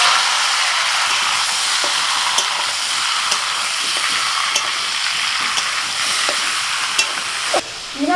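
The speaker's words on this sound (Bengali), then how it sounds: "চিকেনটা মিনিট 2-3 মতো আমি একটুখানি নাড়াচাড়া করে নিয়েছি" Chicken pieces frying in a small amount of leftover oil in a karahi after potatoes, a loud continuous sizzle with scraping stir strokes at irregular intervals, ending in a brief lull.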